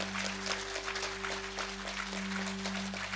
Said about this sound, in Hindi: बहुत बढ़िया, तालियों के साथ करतल ध्वनि।